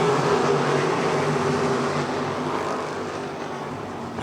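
Dirt track race cars roar around the Lernerville Speedway oval during the Steel City Stampede, a loud sustained engine drone that fades slightly as the cars move off, with no talk.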